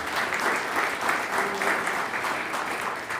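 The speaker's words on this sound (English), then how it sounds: "Give him a round of applause." An audience at a 2025 Putnam County government State of the County address claps for the county's finance commissioner, a steady, moderately distant round of applause from a room full of people, with a faint brief tone partway through.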